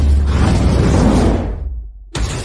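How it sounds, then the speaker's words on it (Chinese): A gas explosion erupts on an offshore oil drilling platform in a disaster film, a loud sustained roaring blast with rushing debris that cuts abruptly to near silence before a second burst of sound returns. "瓦斯爆炸了。"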